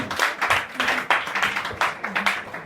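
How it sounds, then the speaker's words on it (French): A church congregation claps to acclaim Jesus, steady rhythmic clapping from many hands at a brisk, even pace, close and lively, with a low murmur of voices underneath. "On acclame le Seigneur Jésus."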